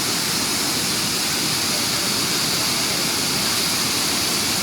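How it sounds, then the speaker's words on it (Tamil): Hogenakkal Falls pouring heavily, a loud, constant, dense roar of falling water that fills the whole scene without any break. "பக்கத்துலேயே அருவி பயங்கரமாக கொட்டுது"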